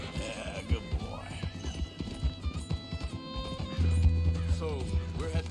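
Horse hooves clip-clop in Red Dead Redemption 2, a rhythmic run of close hoof strikes with an occasional whinny, while voices talk over the steady trotting.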